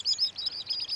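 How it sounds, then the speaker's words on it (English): Thin, high-pitched calls of a common sandpiper repeat rapidly in a quick series, fairly faint and heard alone without any talking. "Common sandpiper are small to medium-sized birds."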